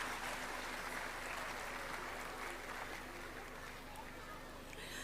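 Audience applause at a St. Joseph's High School event, a steady broad wash of clapping lasting the whole stretch at moderate level, with a faint hum and murmur of voices beneath.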